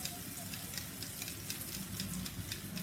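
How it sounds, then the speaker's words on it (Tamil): Eggs mixed with turmeric powder are beaten in a bowl, a quiet, rapid and even ticking of the utensil over soft background hiss. "இந்த முட்டையை கொஞ்சம் கலக்கி வச்சுக்கணும்"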